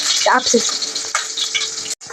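Onion tempering (oggarane) frying in hot oil for a quick bhindi sambar, a dense close sizzle with a few stirring scrapes, cutting off abruptly near the end.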